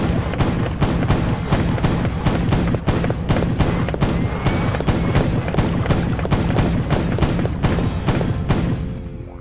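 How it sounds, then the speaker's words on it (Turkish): A Nerf Rival toy blaster fires in rapid automatic bursts, a fast, evenly spaced string of sharp clacking shots running nearly ten seconds, loud and close, with a brief mechanical whir at the end. "Nerf Rival. Bu bir taramalı tüfek."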